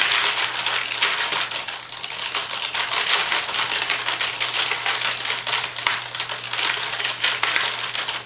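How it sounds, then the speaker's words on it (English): Rapid, relentless clattering of keys as a computer keyboard is pounded hard to break it, a dense, loud, continuous racket with a steady hum underneath. "We would take the keyboard, we would go like this."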